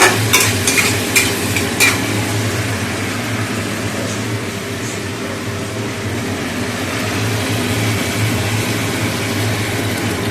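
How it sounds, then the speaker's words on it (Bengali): Onions frying in oil in a kadai, a steady low sizzle with a few sharp clicks of a spoon near the start over a constant background hum. "পেঁয়াজ ভাজছে তো"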